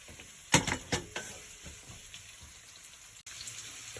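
Loose garlic dropped into a pan for beef broccoli, with a sharp burst of sizzling and stirring clatter at first that fades to a softer, steady fry, close and without talking.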